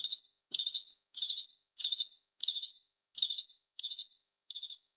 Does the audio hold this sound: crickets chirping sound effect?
yes